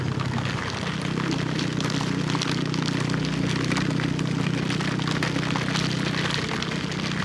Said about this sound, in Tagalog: Biglang busong ulan eh.